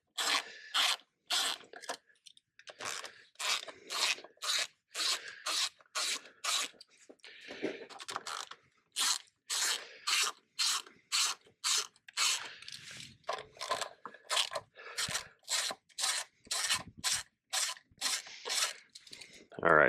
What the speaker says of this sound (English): I'm going to start loosening these clamps